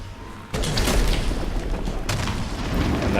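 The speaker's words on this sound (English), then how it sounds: "So I can Soul Link and explode." In Ori and the Blind Forest, a Soul Link triggers an explosion: a sudden heavy boom with a rumbling tail, then a second sharp burst about a second and a half later, loud against quiet game ambience.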